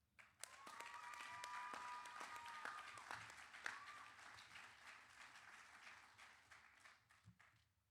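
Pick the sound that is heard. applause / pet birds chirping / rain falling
applause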